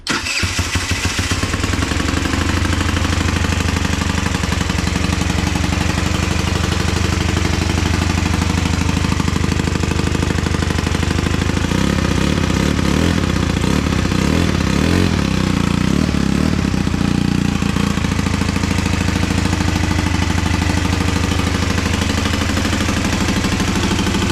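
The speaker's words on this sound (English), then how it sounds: "That's all I wanted to see this bike do, was just fire up and run." Custom motorcycle build on its first start: the engine fires and runs continuously, a loud, close, throbbing mechanical roar with a steady idle pulse and slight rise partway through, no talk.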